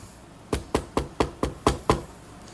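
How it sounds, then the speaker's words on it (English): Seven sharp, evenly spaced knocks rap on wood close by, each a crisp hollow tap with a quick decay, alone without talk. "Knock on wood."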